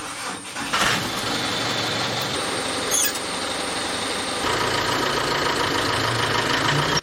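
A school bus engine idling and running close by, a steady loud mechanical rumble with rattling, a brief louder knock near the start, continuing alone.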